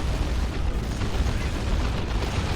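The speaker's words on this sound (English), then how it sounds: "Stun bombs and now stick bombs." Bomb and grenade blasts in the strategy game Dawn of War 2 form a continuous rumbling wash of explosions and bursts, loud and dense from start to finish with no gaps.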